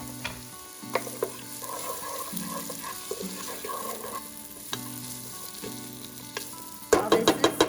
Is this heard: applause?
no